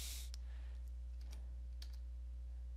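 A computer keyboard is typed on in a few quick, faint keystroke clicks spaced over a quiet background hum.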